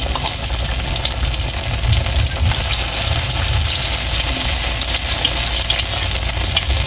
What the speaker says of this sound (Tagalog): habang piniprito po natin yung ating pangalawang salang ng ating gulay na talong